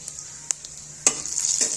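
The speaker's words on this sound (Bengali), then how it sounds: "ফোড়নটা একটু হালকা করে ভাজা ভাজা করে নেব।" Whole spices (bay leaf, dried red chili, cumin seeds, cinnamon, cloves and cardamom) frying in hot oil as a tempering for khichdi, a steady close sizzle broken by a few sharp pops and stirring clicks, with no talking.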